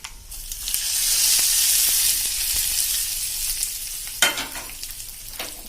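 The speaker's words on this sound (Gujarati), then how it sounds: "હવે એને આપણે ચટણી ઉપર રેડી દેશું." Hot tempering is poured over ridge gourd chutney, setting off a loud, steady sizzle that hisses for several seconds before fading into softer crackles, with a couple of sharp pops near the end.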